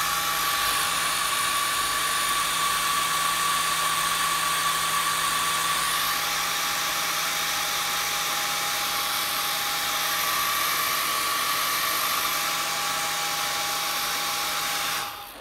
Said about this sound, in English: if you have got a hairdryer, just dry it off manually.